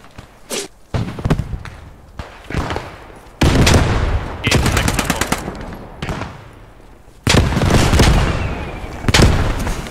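Machine gun fire in the World War II shooter Post Scriptum, with loud, close bursts of rapid automatic shots and heavier sustained volleys, plus distant single reports between them.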